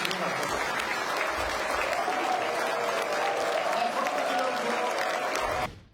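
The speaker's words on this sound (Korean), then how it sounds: "환영의 박수를 한번 크게 한번 쳐주시면 어떨까요" Broad, sustained clapping from an audience welcoming the president at a gathering of business leaders, continuous and full for several seconds before cutting off abruptly, with a faint murmur beneath.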